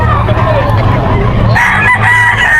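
A young bullstag rooster crows loudly and close by, a drawn-out cock-a-doodle-doo rising then falling over a steady murmur of background noise and other fowl.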